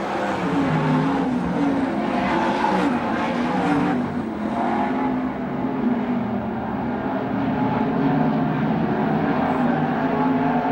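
360 sprint cars racing on the half-mile Manzanita Speedway, giving a continuous loud roar of engines that stays dense and steady throughout, with no talking.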